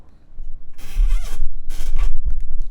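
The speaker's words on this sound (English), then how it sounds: "Sorry for the squeaky mic stand there." A microphone stand squeaks and creaks close up in a few short rubbing bursts, with no one talking.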